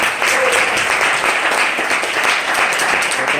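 Church congregation applauding during a Spanish-language sermon, a loud, dense wash of clapping that fills the whole stretch evenly, with a faint voice briefly heard under it.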